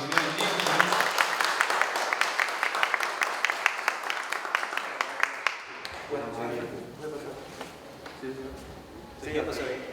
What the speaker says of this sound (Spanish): entonces, con un fuerte aplauso.